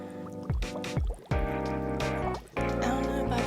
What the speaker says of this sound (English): Is that the sound of water flowing?